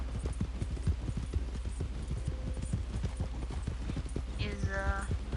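Steady clip-clop of a horse's hooves in a PlayStation 4 video game, evenly paced and close, with a person talking over it and a short whinny-like tonal cry near the end.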